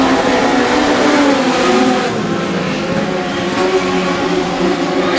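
Legend cars race around a track, their engines a loud, continuous roar with shifting pitch as the pack runs door to door, with no voices over it.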